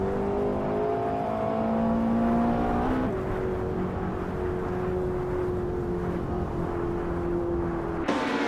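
A 1996 Mitsubishi G2 race car in a racing game holds a high, steady engine whine, shifting gear with brief pitch drops twice, loud and continuous with no voices.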